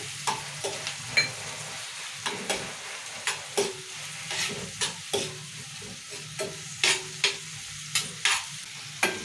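Onions and green chillies fry in oil for cabbage curry, a soft continuous sizzle broken by regular, rhythmic scrapes of a spatula stirring the pan.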